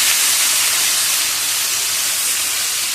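Boiled elephant foot yam dropped into a hot pan of oil with fried green chilies, giving a loud, steady, hissing sizzle that fills the whole moment with no talk.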